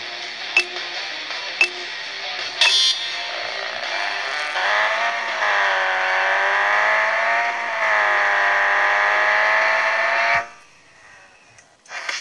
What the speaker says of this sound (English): Accelerate to maximum speed, then bring your car to a full stop in the designated blue area.